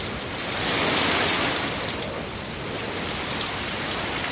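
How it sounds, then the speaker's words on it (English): Heavy rain pouring down as a storytelling sound effect, a dense, steady hiss of drops with a slight swell early on, loud and unbroken throughout. "the rain came down like waterfalls"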